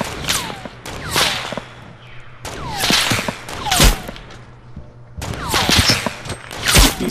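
Gunfire and grenade blasts in the video game Fortnite: Battle Royale, dense bursts of rapid shots and sharp cracks repeating in clusters, loud and close, with no talking.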